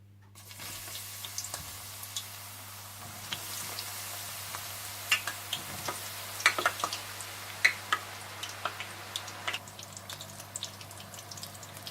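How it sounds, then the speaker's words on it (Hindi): Eggplant pieces fry in hot oil with a steady sizzle and frequent sharp pops and crackles, close and moderately loud, building after a quiet start. "तेल में थोड़े थोड़े बैंगन डालकर फ्राई कर लीजिएगा"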